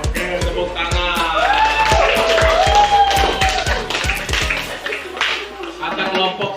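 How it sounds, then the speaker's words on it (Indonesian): Students in an Indonesian classroom clap their hands for a classmate's group presentation. A steady run of sharp, close claps continues throughout, mixed with voices in the room. "Oke, tepuk tangan."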